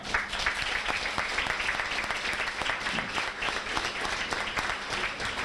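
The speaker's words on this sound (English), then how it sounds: "please give a big round of applause to Cheryl Logan, the kitchen staff," A room of guests at a high school sports banquet breaks into steady, even applause, many hands clapping together at moderate volume for several seconds without talk.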